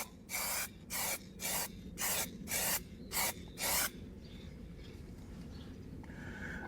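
Eight short, even bursts of hissing spray from a spray gun apply a coating to faded black car trim on a warm day, each burst close and steady, then a low background hum.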